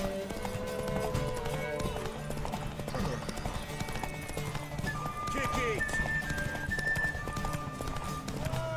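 Horse hooves clip-clopping at a run in The Witcher 3 video game, rhythmic repeated thuds mixed with occasional whinnies and game effects, under a brief shouted line of speech.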